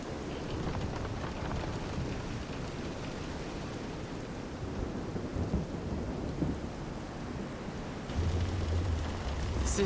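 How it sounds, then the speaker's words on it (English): A thunderstorm at sea in the video game Visions of Mana gives a dense, steady roar of heavy rain with rolling thunder underneath. The sound swells slightly near the end, and no one speaks. "This is some storm."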